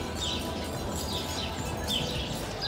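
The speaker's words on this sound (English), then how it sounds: "The sound of birds singing in the trees." Birds sing in backyard trees: faint, repeated high chirps come through a constant, heavy wash of broadband noise.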